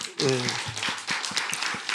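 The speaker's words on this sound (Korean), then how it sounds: "박수 좀 쳐줘봐요." A church audience clapping in a small hall, a short string of sparse, separate claps after a brief spoken phrase.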